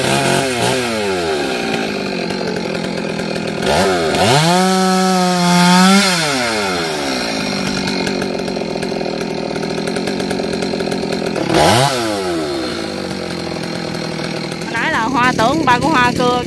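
A Huwana 1621 chainsaw cuts into a large tree, its engine revving loudly in rising and falling surges as the chain bites into the wood, with voices faintly audible beneath the noise.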